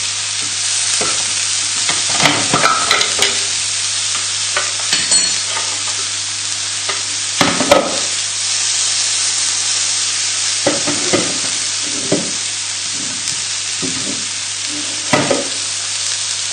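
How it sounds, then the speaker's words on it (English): Back of a spoon scrapes and dabs a coriander and lemon crust across a cod fillet, giving soft intermittent scraping strokes and small clinks over a steady background hiss, fairly close. "And then I'm going to spread it about with a spoon."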